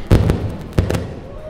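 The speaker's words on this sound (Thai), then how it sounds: "ระเบิดค่ะระเบิดค่ะทุกคนไม่ต้องตกใจนะคะ มันมีระเบิด" Two sharp firework or explosion blasts go off close by, a loud double crack around the start followed by another pair a moment later, each with a short rumbling tail.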